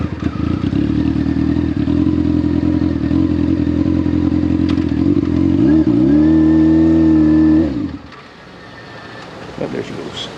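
A motorcycle idles loud and close in a Burger King drive-through, its deep steady rumble rising in a brief rev before cutting off, followed by quieter clatter and background sounds.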